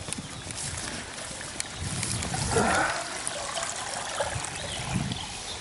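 Water trickling from the inlet into a fish pond outdoors, a soft steady outdoor burble at moderate distance, with no talk over it.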